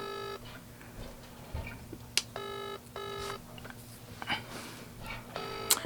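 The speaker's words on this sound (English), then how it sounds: "The phone is ringing." A phone rings in a repeated pattern of short electronic ring bursts, each about a second long, spaced evenly over a faint steady hum, with a few clicks between the rings.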